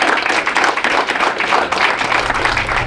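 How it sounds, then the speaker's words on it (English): Lively applause and clapping from a gathered crowd at a signing event, uneven bursts of hand claps fairly close and loud, running throughout with no talk on top. "One more round of applause for Thomas Hirsh."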